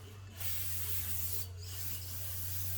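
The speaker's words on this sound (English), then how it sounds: "let's go ahead and hit this with the brake parts cleaner" Brake parts cleaner sprays steadily from an aerosol can onto the front brake rotor of a 2009–2015 Honda Pilot EX-L 3.5L, a close, continuous hiss with two short pauses, heard alone over a low hum.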